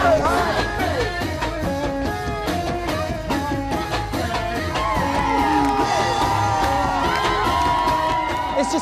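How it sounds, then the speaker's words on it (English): Crowd of supporters outside the White House cheering, with whoops, yells and shouting voices overlapping in a lively, sustained roar, some calls near and others farther off. "it was Biden supporters who actually surrounded the White House with reports that the cheering could be heard from inside the presidential home"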